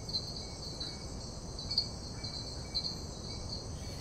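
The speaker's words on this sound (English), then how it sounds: "And you hear that little bell clicking sound? That's actually a frog." Steady insect chirring at dusk in Costa Rica with small, repeated bell-like clicks from a frog ringing out every second or so, continuous and moderately close.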